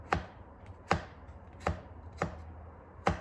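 Kitchen knife chopping food for crispy salt and pepper shrimp on a board, five sharp separate chops in a slow, even rhythm, close and clear with no talking.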